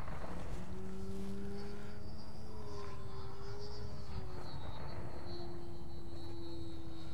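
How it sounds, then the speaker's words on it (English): A T-Motor AM780 electric motor of nearly 5000 watts on a 78-inch model plane whines steadily with a shifting pitch as the plane flies at a moderate distance. "The motor sounds good, it feels good, I've got plenty of torque."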